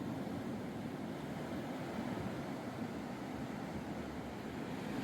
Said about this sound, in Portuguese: olha aí onde a água tá batendo